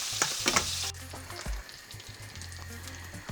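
Chicken thighs frying skin-side-down-then-flipped in a pot over medium heat, a continuous close sizzle with brief clatters near the start and a low hum underneath.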